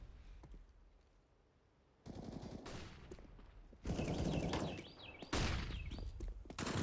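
Bursts of rifle gunfire in a Counter-Strike match, heard as rapid automatic fire in several close, loud stretches over a quieter game background.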